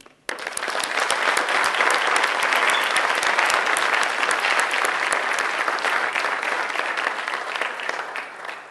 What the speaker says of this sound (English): Please let's give a big round of applause for everyone in our doctoral program community.